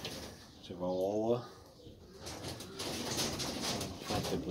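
A pigeon in a loft gives a short rising, warbling coo close by, followed by scraping and shuffling noises.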